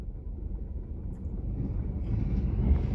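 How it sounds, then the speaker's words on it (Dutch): Train passing near a level crossing beside a canal, heard from inside a vehicle as a steady low rumble that slowly swells in loudness over a few seconds, with no talk. "Daar gaat die trein."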